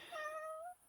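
A cat gives a single clear, close meow, rising and then slowly falling, with quiet room tone before and after.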